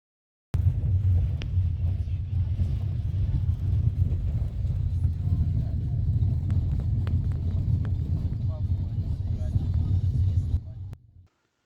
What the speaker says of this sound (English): Because of road works, we drive over some track.